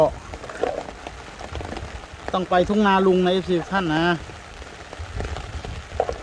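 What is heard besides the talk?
heavy rain falling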